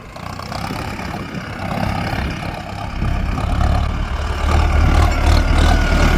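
The engine of a 15+15 gear machine runs while it drives, a close, continuous low rumble that grows gradually louder, with no talk.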